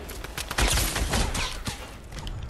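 Grenades fired in a video game make a rapid string of booming shots and blasts crowded into about two seconds, fairly loud, then trailing off.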